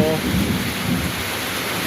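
Heavy rain with thunder hisses loudly and evenly over a low rumble during an outdoor fishing trip, with no talking heard.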